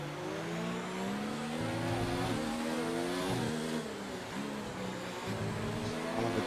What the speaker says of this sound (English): Here comes the Mercedes again